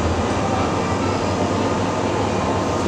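A train on the Penang Hill funicular railway at Bukit Bendera rumbles with a dense, continuous roar, loud and close throughout.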